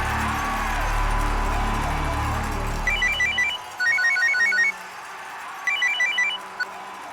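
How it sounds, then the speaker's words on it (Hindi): An electronic phone ringtone chirps in three short bursts of bright repeating trills, following a low rumbling hum that cuts off. "डिकिंसन को फोन लगा।"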